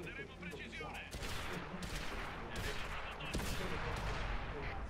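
Tank cannon fire and battle noise in World of Tanks with a T28 in play, rumbling gunfire bursts and impacts over continuous engine rumble, with faint voices underneath.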